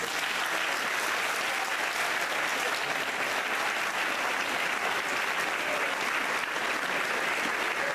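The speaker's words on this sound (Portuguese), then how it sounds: "Uma salva de palmas para eles." A large audience applauds at a Christian song festival in Alcobaça, a continuous dense clapping that stays loud and even for the whole stretch.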